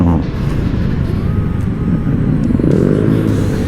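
A Honda ADV motorcycle rumbles past on a road, its engine a steady low drone that swells slightly toward the end, with no voices over it.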